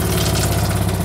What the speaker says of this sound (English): it looks like I blew out the impeller in the water pump as well, because it runs but it doesn't pump